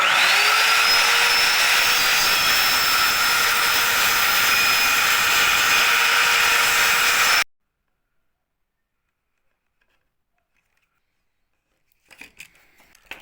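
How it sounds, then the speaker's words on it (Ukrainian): A circular saw cutting wood along a marked line for a homemade easel, a loud sustained whining buzz for about seven seconds, then silence before faint handling noises at the end. "Потім беремо циркулярку або можна просто ножовкою і відрізаємо"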